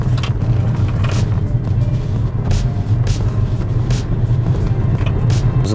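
A Tesla Model S sweeps through a turn, giving a loud, steady, low road rumble and tyre roar throughout, with faint higher whooshes rising and falling and no clear talking.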